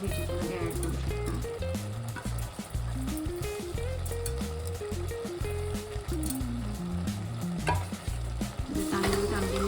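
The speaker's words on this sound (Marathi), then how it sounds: "तांदूळ चांगले मिक्स करून घ्यायचे." Rice for a homemade vegetable pulao is stirred in a hot pan, a steady loud sizzle with repeated scraping strokes of the spoon that continues without a break.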